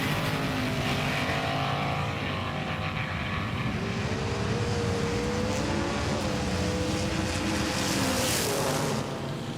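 Race cars, among them a Ford Falcon, roar past at speed in a steady, loud engine drone that rises and sweeps in pitch with no talk over it.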